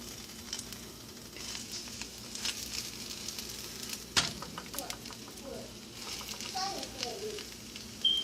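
Leftover butter sizzles in a pot while fish cooks, a steady faint hiss and crackle throughout with occasional clinks and a sharp tap near the middle, low in level.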